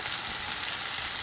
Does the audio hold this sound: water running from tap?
no